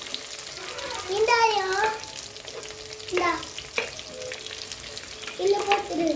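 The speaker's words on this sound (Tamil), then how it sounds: "இப்போ கட் பண்ண வெங்காயம் சேர்த்துக்குவோம்." Cut onions frying in a pan, a low sizzle beneath a voice speaking in bursts, with a few brief clinks and stirring sounds.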